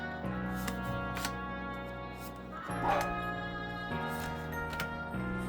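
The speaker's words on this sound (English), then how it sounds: "Hopefully you guys won't be able to hear the dogs bark" Dogs barking and yipping indoors, faint and in the background, a few scattered short barks with a brief louder burst midway, while a quiet room hum carries on.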